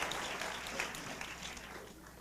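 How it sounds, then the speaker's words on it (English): Seminar audience applause in 1994, steady dense clapping from a crowd that holds at an even level throughout and fades slightly toward the end. "So just give him a big round of applause."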